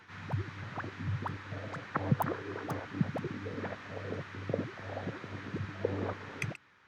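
A minimal house glitch built from grain delay modulated by LFOs and pumped by sidechain compression: a busy spray of short clicky, gurgling fragments over a steady low hum, playing for several seconds before cutting off abruptly.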